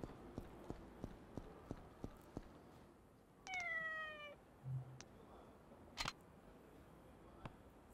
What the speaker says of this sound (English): I'm a big fan of this cat sound effect.